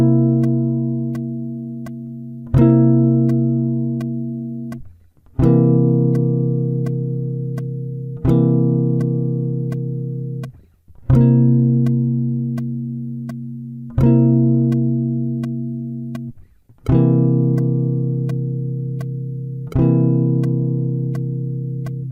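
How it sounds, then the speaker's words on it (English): An electric jazz guitar alternates between two C dominant 7th chord shapes, one rooted on the sixth string and one on the fifth, each chord strummed once and left ringing for about three seconds before the next, eight strums in all, clear and alone. "we'll practice alternating between a C dominant 7th based off of the 6th string and the new C dominant 7th shape"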